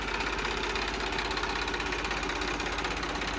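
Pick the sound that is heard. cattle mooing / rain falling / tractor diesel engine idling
tractor diesel engine idling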